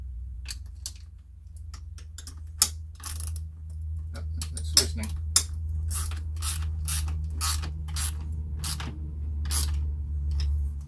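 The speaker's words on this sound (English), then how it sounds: "These are the gear wrench ratcheting wrenches." GearWrench ratcheting wrenches clicking in short rapid bursts of sharp ratchet ticks while a mechanic's rolling garage stool is assembled, close and fairly loud over a steady low hum.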